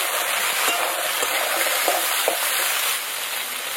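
Crab frying in hot oil with garlic and dried chilli makes a loud, steady, close sizzle with a few stirring scrapes and clicks throughout.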